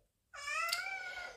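A cat shut in a room lets out a single drawn-out, loud, clear meow after a moment of silence, heard close and alone.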